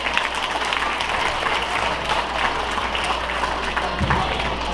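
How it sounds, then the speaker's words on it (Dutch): Sustained applause from an audience at a farewell evening for kindergarten children, where a website launch is being celebrated, dense steady clapping filling the room for the full stretch with a low hum underneath. "Mag ik nog een applaus daarvoor?"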